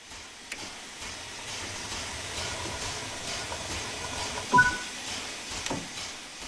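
A steam locomotive in a train simulator game starting to move: a continuous hiss of steam with low rumbling, occasional soft chuffs and a brief louder burst, fairly quiet and without talk.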